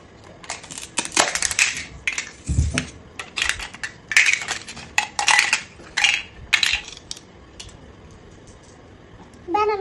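A toy knife cuts through a toy guava, giving a string of close, sharp clacks and crunchy snaps in uneven bursts, with short pauses between them.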